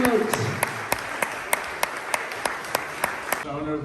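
Evenly spaced, sharp claps ring out at a steady rhythm at a gym opening in Scotland honouring bodybuilder Dorian Yates, over a low background hum.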